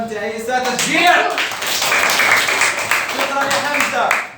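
Children in a second-grade classroom clap together to cheer a classmate during a word game, a steady burst of applause mixed with young voices talking over it.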